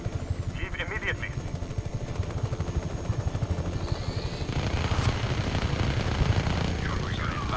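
Helicopters and gunfire in the video game Just Cause 3: a continuous rotor-like rumble runs under rapid bursts of shots, growing louder and denser toward the end, with a voice speaking in places.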